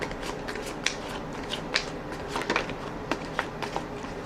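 A new, slick tarot deck gets riffle shuffled up close, with rapid fluttering card riffles and sharp snaps as the cards fall together, repeated over a few seconds.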